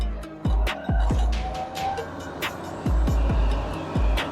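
A 1973 Suzuki LJ50 pulling along in second gear, its small engine droning steadily up close with repeated low thumps and knocks as it bounces over the ground.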